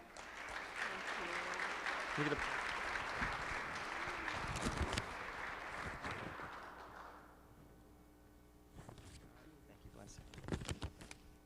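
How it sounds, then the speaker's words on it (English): A crowd claps in sustained applause for several seconds, then fades out as a voice begins speaking over the dwindling claps. "give Valencia a round of applause for that"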